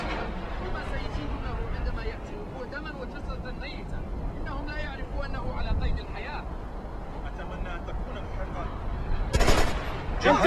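Gunfire in the video game Splinter Cell Conviction: bursts of shots under steady, excited commentary from a player, with a sharper blast near the end.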